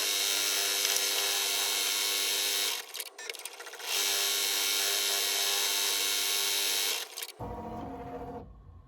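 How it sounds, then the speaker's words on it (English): A Ricoma embroidery machine stitches out an outline, a steady rapid mechanical whir with a fast pulsing beat, pausing briefly twice before the stitching resumes and then ends. "So I want to see how long it's going to take using the Ricoma. So here we go. It's just going to do a quick stitch out."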